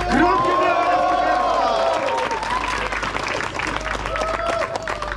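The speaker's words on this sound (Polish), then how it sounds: "Gromkie oklaski są wtedy, kiedy do dźwięków wydawanych przez uderzane o siebie dłonie dorzucimy jeszcze odgłos paszczą" Thunderous applause with shouting from a crowd of obstacle-race participants at an outdoor event, loud sustained clapping overlaid with whoops and yells, strongest at the start and continuing steadily.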